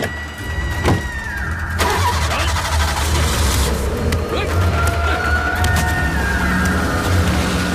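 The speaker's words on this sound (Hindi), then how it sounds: "अरे सर जल्दी गाड़ी स्टार्ट कीजिए।" A car's engine turns over and starts during a tense thriller scene, the start heard early and the engine then running steadily beneath a busy mix of voices and other movie sound.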